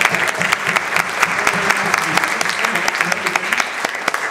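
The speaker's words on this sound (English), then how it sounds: "Would you please give them a big round of applause?" A church audience at a Lutheran church concert breaks into loud, dense applause, many hands clapping steadily and close throughout.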